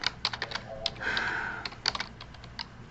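Keys on a computer keyboard being tapped in short irregular bursts of clicks, close and fairly quiet, with one brief sustained tone in the middle; no speech.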